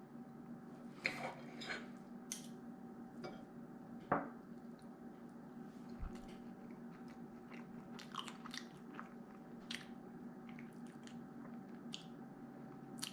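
Biting into and chewing homemade stuffed French toast roll ups, close to the mic: soft, wet, squishy bites and a few sharper crunches, quiet and irregular, with no talking.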